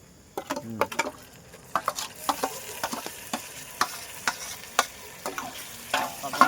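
Ginger and garlic go into a pan of frying onions, giving a soft background sizzle broken by a series of sharp, close clicks and scrapes from a spatula against the pan, with no talking.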